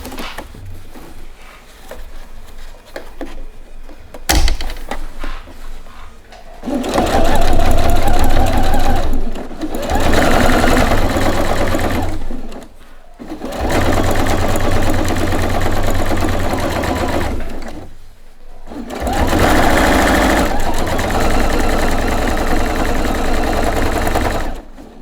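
A sewing machine stitches a drawing portfolio bag. A short buzz is followed by three long, loud runs of rapid stitching, each separated by brief pauses.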